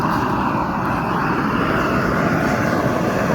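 A homemade burner fired on waste oil roars steadily with its fan, a loud, unbroken broadband rush that holds even throughout with no voices over it.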